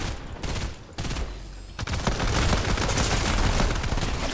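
Rapid bursts of gunfire in Fortnite, continuous and loud, with dense overlapping shots and a sharp burst near the start before a sustained barrage.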